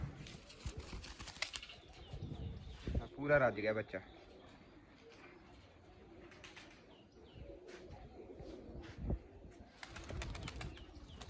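Hungry squab pigeons being hand-fed at a loft flap their wings and make soft cooing, squeaky calls in short bursts close by, while someone talks over them throughout.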